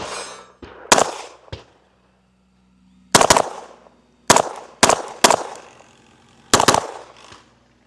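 An Alfa Foxtrot Romulus pistol fires sharp, loud shots in uneven bursts: a pair, a lone report, then quick pairs and a final shot, each cracking then ringing out briefly.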